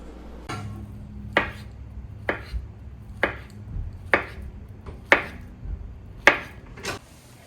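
A white stainless steel OOU kitchen knife chopping food on a board, about eight sharp, evenly spaced knocks over several seconds, close and distinct with no talking.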